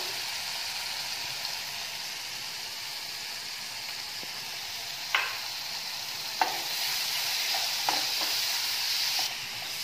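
Tomatoes frying with spice masala in a pan give a steady soft sizzle, broken by a few sharp scrapes of a spoon stirring the mixture, with no voices.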